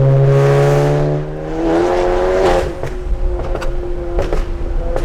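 A Stage 2 bagged VW GTI revs hard, its loud, deep exhaust rising and falling in pitch, then settling into a throbbing idle broken by sharp crackles and pops, close by and with no talking.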